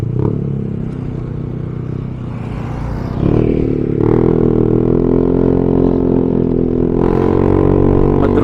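A motorcycle ridden again after sitting parked for five days, with its brakes dragging; a steady engine drone with whirring and rattling grows louder past the three-second mark, then holds close and continuous with no talk.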